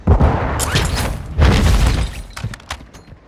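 A flash grenade bursts in Warzone 2: a loud, close boom and crack at the start, then a second heavy thump a moment later, with ringing, crackling debris fading over about three seconds.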